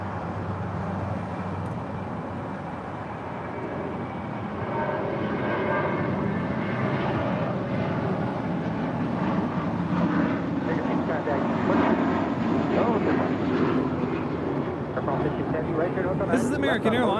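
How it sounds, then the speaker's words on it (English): An American Airlines A321 jet departs LAX for JFK with a broad, steady engine roar that swells and holds, while voices talk over it. "This is American Airlines Flight 2, departing to JFK on an A321"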